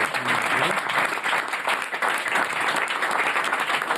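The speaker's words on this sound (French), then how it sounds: "Bravo, on peut l'applaudir." A crowd applauds loudly and continuously, a dense wash of clapping that holds steady throughout, with a faint voice briefly audible at the start.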